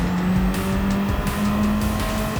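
A Group 1 race car at Daytona in Gran Turismo 7 revs loudly and steadily under throttle, its engine note shifting with faint tire squeal mixed in, continuous and close throughout.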